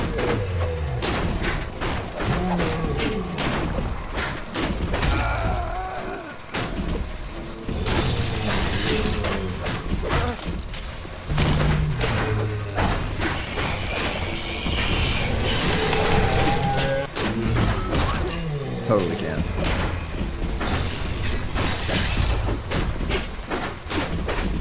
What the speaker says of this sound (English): I can't one-shot him with the wrench, but I could take him out with the wrench.